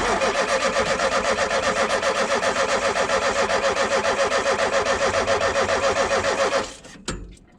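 A Ford Transit Mk2 camper van's engine cranks steadily with a rapid, even rhythmic churning from the starter for several seconds, loud and close, then cuts off abruptly without catching, followed by a brief clunk.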